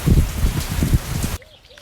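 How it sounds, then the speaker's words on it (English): Dense heavy rain in southern Italy roaring and pattering loudly for over a second, then cutting off abruptly to near silence. "now it's raining like crazy"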